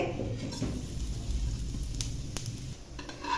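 Cumin seeds are tossed into two spoons of heated oil. A loud, close sizzle and crackle follows, with a few sharp clinks of a spoon against the pan as they are stirred. There is no speech.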